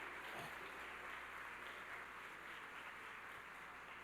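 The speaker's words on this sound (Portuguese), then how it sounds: "Dá uma salva de palmas para Jesus" Faint, steady applause from a distant church congregation continues evenly throughout, with no individual claps standing out.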